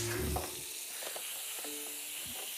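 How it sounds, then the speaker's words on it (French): Meat juices deglazed with balsamic vinegar in a pan, a brief loud burst of sizzle at the start settling into a steady hiss with light scraping, close up, no talking. "en déglaçant les sucres restants au vinaigre balsamique"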